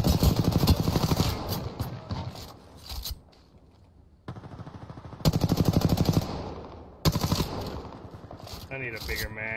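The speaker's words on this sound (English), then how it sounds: "Oh, they're getting shot at by somebody else right here." Heavy automatic gunfire in a shooter video game, long rattling bursts broken by short pauses, loud and close, with a quieter gap mid-way.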